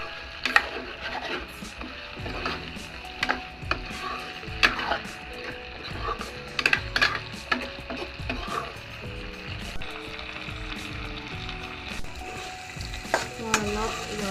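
Broiler chicken fries in a pan with chopped jackfruit seeds while a utensil stirs and scrapes the pan, making irregular close clacks and scrapes over a steady sizzle.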